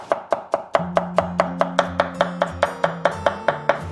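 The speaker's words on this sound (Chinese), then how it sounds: "然后再改刀切丝" A knife cutting a peeled potato into thin strips on a board, about sixteen crisp evenly spaced chops in quick rhythm, close and clear.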